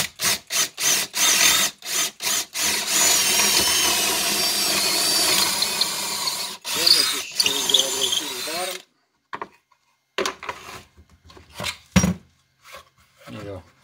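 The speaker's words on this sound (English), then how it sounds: "So I'm going to drill my 3 8 hole." A power drill whirs in short bursts, then runs steadily for several seconds drilling a 3/8 hole, before more brief trigger pulls.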